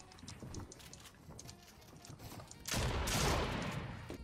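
Sniper gunfire in a Fortnite arena match: muffled distant shots crackle through the first seconds, then a louder sustained burst of noisy gunfire erupts near the end.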